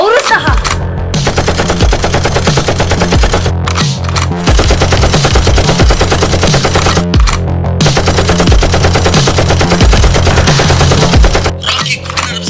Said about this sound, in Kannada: ರಾಕಿ ಗುಂಡಿನ ರಭಸಕ್ಕೆ ಇಡೀ ಸಮುದ್ರ ಬೆಂಕಿ ಹತ್ಕೊಂಡಂತೆ ಕಾಣಿಸ್ತಾ ಇದೆ.